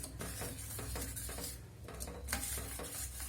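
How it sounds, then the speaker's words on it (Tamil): A spoon stirs sugar syrup with ginger in a metal pot for homemade ginger cough candy, with rapid clinking and scraping strokes against the pot, close and continuous. "இப்போ நல்லா கலந்து விட்டுக்குவோம்."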